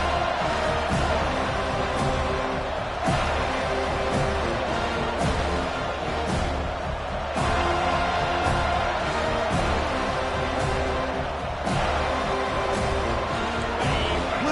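A stadium crowd at a college football video game keeps up a steady, loud roar of cheering with bursts of whoops, filling the whole stretch with a dense wash of noise.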